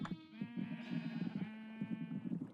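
Sheep in Minecraft bleat in a short chorus of wavering, overlapping baas, fairly quiet and close, with no talk.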